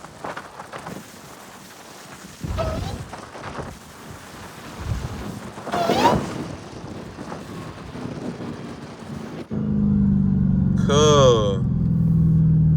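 Someone talks over wind buffeting before a modified 900 hp Dodge Hellcat engine bursts in with a loud, close roar and a sharply rising whine as it revs.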